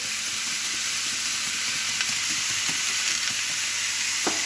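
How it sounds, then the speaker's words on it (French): Food sizzles steadily in a pan with a drizzle of olive oil, salt and pepper, stirred now and then, a constant close frying hiss with a few soft knocks and no talking. "on laisse cuire et bien sûr on remue de temps en temps avec un petit filet d'huile d'olive"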